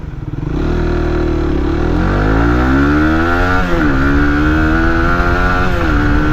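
A motorcycle fitted with a quick throttle revs hard up close, its loud engine note climbing and dipping through several throttle blips over a sustained idle-to-high roar.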